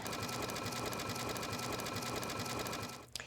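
A home sewing machine stitches a decorative pattern down the middle of joined lace, ribbon and fabric, using an edge joining foot. It gives a steady, fast mechanical whir with rhythmic needle clatter, close and continuous, and stops abruptly near the end.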